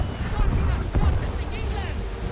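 Strong wind gusts buffet a sailing ship at sea in Assassin's Creed 3, a steady, loud rush of wind with rolling water underneath, briefly swelling at about one second.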